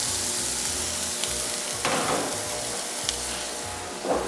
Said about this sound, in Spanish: Y acá vamos a saltear ligeramente.